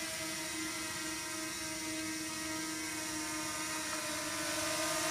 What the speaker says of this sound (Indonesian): Ini drone-nya udah kembali.